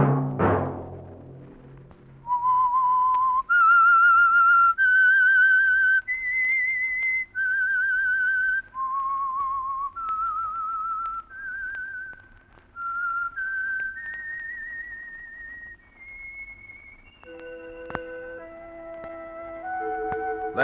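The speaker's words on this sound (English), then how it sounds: "Let that whistle be your signal for the Signal Oil program, The Whistler" A radio mystery show's theme is whistled solo, a slow, eerie melody of long sustained notes that climb and fall, clear and prominent with a brief soft musical sting at the start.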